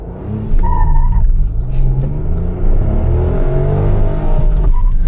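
Tata Altroz Racer hatchback accelerating hard at full throttle in a 0 to 100 run on a slight downhill, a loud close engine note climbing steadily through the gears toward about 6000 rpm with brief shifts, no talk.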